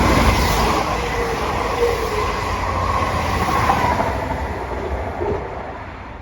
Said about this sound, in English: Right here comes the train in the distance, which is going to take me to the next stop along, Droitwhich Spa